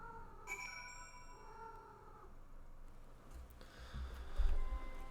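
Cats in the game Final Fantasy XIV give faint, drawn-out meows and a soft purring murmur, quiet and distant, with no talking over them.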